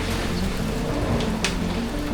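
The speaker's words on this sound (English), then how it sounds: "they can't stop the rain from coming in upstairs" Heavy storm rain pours steadily on a house under restoration, a dense, loud wash of drops with a few sharper splashes, and no voices.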